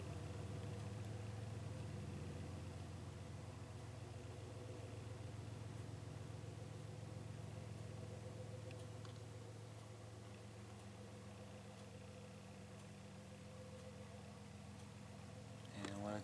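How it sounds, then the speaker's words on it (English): A CN ES44DC diesel locomotive with DPU equipment opens up its throttle, producing a deep, steady engine drone heard from a distance, faint and continuous under a low background hiss. "Just listen to her open up the throttle."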